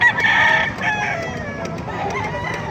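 A crossbred native rooster crows loudly and close by at a poultry market in Bocaue, one drawn-out call, with faint clucking and other fowl noise in the background.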